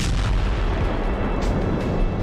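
Artillery shell blast recorded from a Russian drone over a battlefield: a sustained, loud, broadband rumble with a heavy low-end roar and no distinct sharp onset, filling the whole moment without voices.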